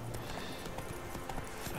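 Horse hooves clip-clop at a steady walking rhythm in The Witcher 3, repeated close thuds over a continuous ambient game background.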